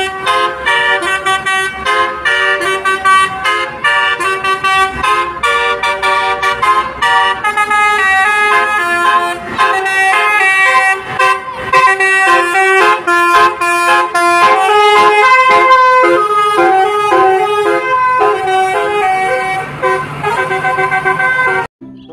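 A Tunggal Jaya Jupiter bus plays a basuri horn, a loud, sustained melodic horn tune sounded as a string of musical notes. It continues for about twenty seconds before cutting off abruptly.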